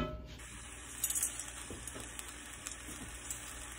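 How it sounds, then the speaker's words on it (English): Ground beef and vegetables cook in a skillet while the meat browns, making a faint steady sizzle with a few soft stirring scrapes, close by and alone without voices. "We're gonna cook it until the meat is brown and the vegetables get tender."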